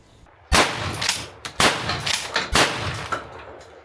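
SULUN Arms TACSORAS 12-gauge lever release shotgun firing three loud, sharp blasts about one second apart, each followed by a short ringing decay, close to the listener.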